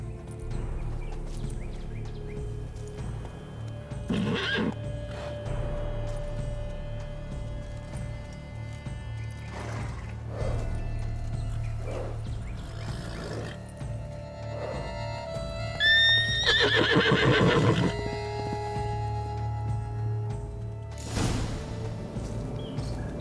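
A horse whinnies with a rising and falling cry about two-thirds through, in The Witcher 3: Blood and Wine, over a steady low ambient hum with scattered clops and faint bird chirps.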